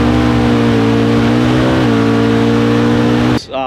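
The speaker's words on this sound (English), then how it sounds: "This is my 1987 E30 M3 BMW." A 1987 BMW E30 M3 engine revs loud and close with steady harmonic drone, pitch dipping and rising briefly midway, then cutting off abruptly near the end.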